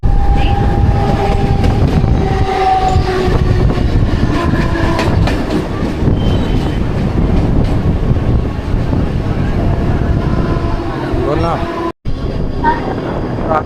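A Mumbai local train leaving CSMT station gives a loud, close, steady rumble with clattering wheels and wind buffeting, a faint tonal whine at times, and a brief dropout near the end.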